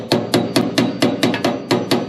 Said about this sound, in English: hammer it towards the front just a little bit